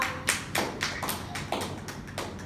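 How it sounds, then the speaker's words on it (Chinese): A small audience at a 2014 testimony-sharing event claps for a speaker. The claps are sparse and uneven rather than a full ovation, a handful of soft, separate hand strikes sounding at close range with no talk over them. "我觉得再给我们的阿门道一个热烈的掌声，好不好？"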